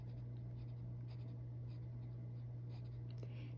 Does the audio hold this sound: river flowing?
no